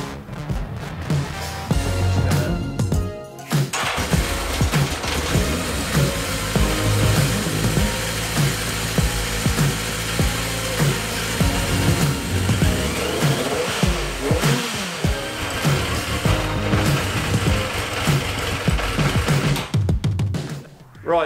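A Yamaha XJ650 motorcycle engine runs steadily after start-up, a loud close rumble that dips briefly around the third second, then holds an uneven idle with occasional revs until it cuts near the end.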